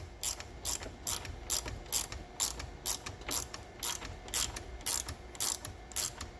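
A socket ratchet clicks in quick, repeated bursts while working on the headers of a budget turbo Mustang, the rapid pawl ticks close and fairly quiet with no talking.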